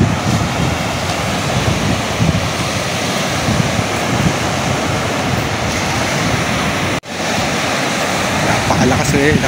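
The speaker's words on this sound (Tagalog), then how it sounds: "Yung dagat, maalon pala. Lakas hangin." Rough sea waves crash and roar continuously at a fish port in Cavite while strong wind buffets the microphone, a loud, steady wash of noise with a brief dropout near the end.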